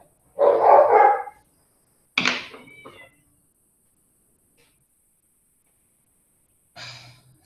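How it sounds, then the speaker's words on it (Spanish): A dog barks in three separate bursts with silence between them: a longer rough outburst, a shorter one, then a brief fainter bark at the end. "qué perro tonto."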